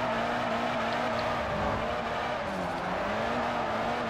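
A Fiat 500 drifting in the racing game Forza Motorsport 4, a steady engine drone under a continuous tire squeal that wavers in pitch, held at moderate volume with no talk.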